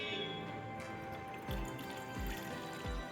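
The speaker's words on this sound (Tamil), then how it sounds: "அந்த வாட்டரில் இருக்கிற தண்ணி எடுத்து நான் அந்த இதில் ஊற்றுறேன்" Water is poured from a bottle into a vessel while making green tea, heard as faint, close trickling with three soft, hollow glugging drops at a steady pace.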